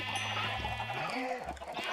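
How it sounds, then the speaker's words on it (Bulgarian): A sheep bleating in Minecraft, a short wavering bleat against steady background game sound. "Добре, овца."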